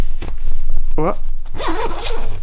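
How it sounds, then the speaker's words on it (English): Zipper on a Deuter Astro Pro 1000 sleeping bag being pulled open in a smooth, quick rasp, heard close up, with a person talking briefly before and after. "let's open the zip here"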